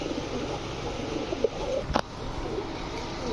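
Racing and fancy pigeons coo in pens at a pigeon farm, soft, intermittent calls sunk in a steady noisy ambience, with a sharp click partway through.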